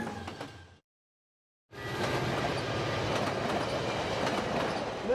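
A train rolling along rails: a steady rumbling clatter of wheels and cars, loud and close, broken by a brief silent gap near the start, with no voices over it.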